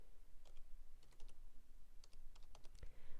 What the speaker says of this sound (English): Type in Rowling.